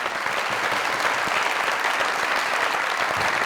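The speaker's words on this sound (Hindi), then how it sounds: "जोरदार तालियां" Sustained, dense applause from a large crowd, many hands clapping steadily and loudly throughout with no break.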